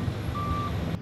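A haulage truck's reverse alarm at a surface mine gives a single clear, steady beep over a rumbling engine, heard up close.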